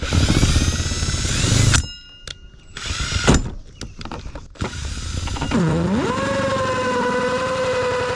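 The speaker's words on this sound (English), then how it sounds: "I'm going to go ahead and drill it in reverse" A power drill running in reverse through bathroom vinyl whirs loudly in bursts, stopping and starting, then settles into a steady mid-pitched drone.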